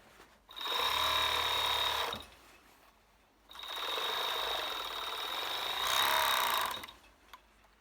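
An overlocker stitches around a summer dress in two sustained runs of steady, fast mechanical whirring, loud and close, with a brief pause between them.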